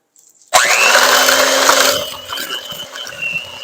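An electric mixer whirs loudly and close up as it starts and churns keto mint chocolate brownie batter, then softens into a lower, uneven grinding as it works through the thick mix.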